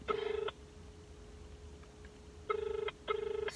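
A home telephone rings unanswered, three repeated electronic ring bursts with pauses between, fairly quiet and heard alone.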